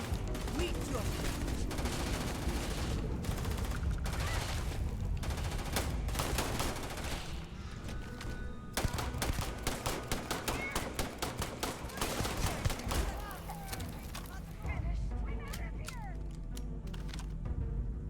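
Equinox rifle firing in the video game Starfield, dense bursts of gunfire running nearly the whole time over a constant game soundscape, with brief lulls between volleys.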